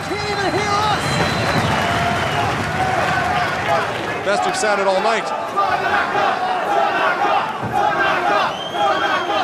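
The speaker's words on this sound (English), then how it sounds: "Look at the fans standing and cheering." A wrestling crowd at ECW November to Remember 1999 roars and cheers loudly throughout, with shouts and whistles rising from the arena, and a commentator's voice speaks over the din.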